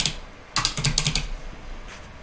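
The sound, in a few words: typing on a computer keyboard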